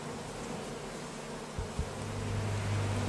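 Honey bees buzz around a backyard hive opened in the morning for a honey harvest, a steady, dense drone with a low hum that swells slightly toward the end.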